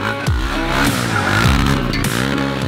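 A KTM 690 Duke motorcycle doing a limbo drift, its engine revving loudly and close with rising and falling pitch sweeps while the tires skid continuously throughout.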